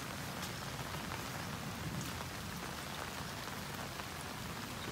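Steady rain falling over a farm in Pampanga on a wet day, a dense even hiss of drops on surfaces with scattered louder ticks, continuous and fairly quiet, with no voices.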